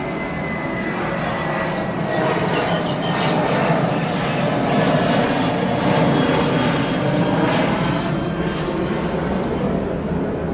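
A fixed-wing airplane climbs out after takeoff from a nearby airport, its engines roaring overhead in a loud, steady, broadband rush that swells slightly through the middle and holds strong to the end, with no talk.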